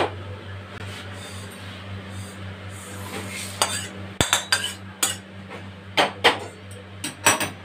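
Pieces of fish head are rinsed with water in a metal pot for a Bengali fish moong dal, with soft sloshing followed by a string of sharp clinks and knocks against the pot, close and without talk.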